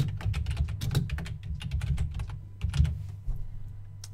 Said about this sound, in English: I'm going to type Golden State Warriors